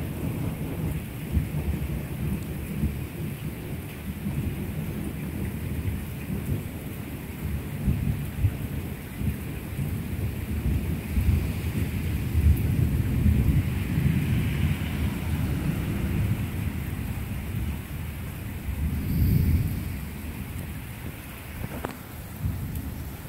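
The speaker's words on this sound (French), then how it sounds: "Très bel orage pour le moment." A building thunderstorm pours steady rain while thunder rumbles low and long, swelling near the middle and again loudly toward the end, with a hiss of rainfall throughout.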